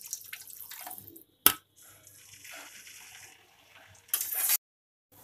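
Water is poured into a pan of jackfruit kofta curry gravy in a few short, splashing bursts separated by quiet gaps, fairly close and moderately soft.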